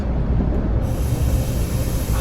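A small train cruises quietly under a railway trestle, heard up close as a low, steady rumble with a faint hiss and no horn or distinct clatter.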